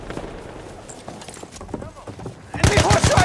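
Horse hooves clatter in a quick, loud run near the end of a video game clip, from an enemy horse rider. Talk and game noise come before it.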